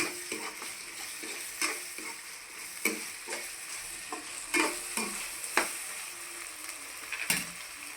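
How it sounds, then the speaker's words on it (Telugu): Tomato pieces frying with ginger garlic paste, a soft steady sizzle broken by repeated scraping clicks of a spoon stirring the pan at an uneven rhythm, fairly quiet and close, with no speech. "ఈ టమాటా ముక్కలు కూడా బాగా యాగాలి"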